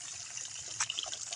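Water flows through an irrigation canal beside a bitter gourd (ampalaya) field, making a faint, steady hiss with small splashy surges partway through.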